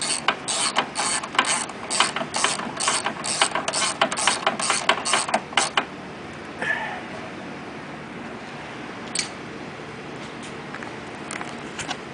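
A hand ratchet tightens small 10 millimeter nuts on a 2003 Audi TT, clicking rapidly in close repeated bursts for several seconds before falling quiet, with one or two stray clicks afterward.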